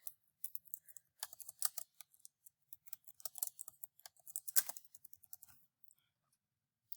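Rapid, light clicking of keys on a computer keyboard, irregular bursts of typing close by and fairly quiet, ending after a few seconds with no talk.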